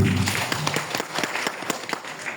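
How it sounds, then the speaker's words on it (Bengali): An audience at a poetry society's anniversary and honours ceremony in Cumilla applauds, a dense, steady wash of many hands clapping close by that carries on throughout without pause. "সবাই সবার জন্য একটা জোরে করতালি"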